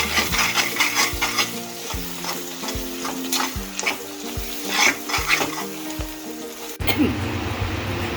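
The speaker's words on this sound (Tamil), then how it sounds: "சிம்லேயே வச்சு வதக்கிட்டு கை விடாமல் கிளறிட்டே இருக்கும். எண்ணெய் கீரை எல்லாமே மிக்ஸ் ஆகும்" Sorrel leaves being sautéed in groundnut oil in a pan on low heat, with a steady sizzle and repeated, rhythmic scraping and stirring strokes close up throughout, and no talking.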